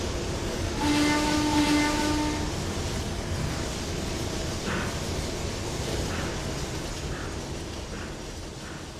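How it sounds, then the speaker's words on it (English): A train rolls past in Trainz 2022, a loud, continuous rumble with a horn tone sounding early on, then fading into rhythmic wheel clatter on the rails. "And there goes the last of that train"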